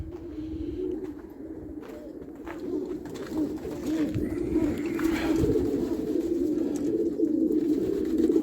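Several pigeons in a loft coo continuously in low, throaty murmurs, overlapping into a steady soft burble with faint rustling.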